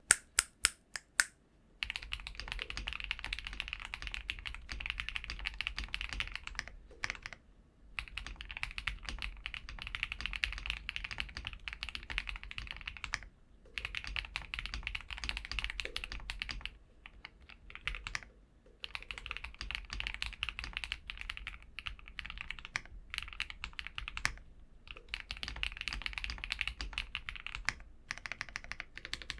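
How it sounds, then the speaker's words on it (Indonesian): Typing on a new, out-of-the-box Cidoo QK61 V2 60% mechanical keyboard: brisk, close bursts of clacking keystrokes separated by short pauses, running steadily for about half a minute with no talking. "untuk typing sound dari keyboard Sidu QK61V2 yang baru out of the box"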